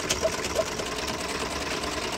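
A sewing machine stitching the folded hem of a dupatta, a steady fast mechanical whirr running continuously close up with no talking.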